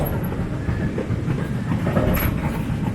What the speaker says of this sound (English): Picked a good day to come out and ride the train.